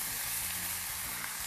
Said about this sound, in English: This guy's gonna sizzle real good when it gets the pan.